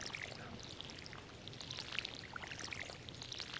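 Watering a wheat crop with a watering can in the Stardew Valley video game: a steady pouring, splashing stream of water with small droplet patters, fairly quiet and continuous with no talk.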